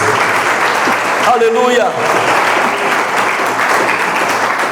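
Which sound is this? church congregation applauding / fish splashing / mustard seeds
church congregation applauding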